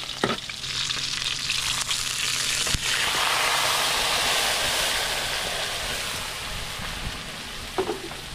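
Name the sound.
onions frying in cooking oil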